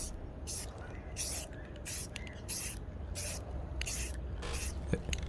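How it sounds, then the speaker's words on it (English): A rattle can sprays paint onto plastic pieces in a series of short hissing bursts, about eight sprays with brief gaps between them, close and fairly loud. "using a rattle can to paint pieces of plastic"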